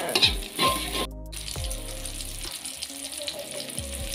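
Onions sauté in a hot pan for a stir-fry of jackfruit skin, a soft close sizzle broken by a few dull thuds and clatters from stirring.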